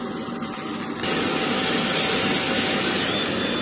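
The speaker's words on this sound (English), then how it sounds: "Right, welder's working again." A welder runs on a trailer frame under construction, a loud continuous close buzz that steps up in intensity after a moment and holds steady.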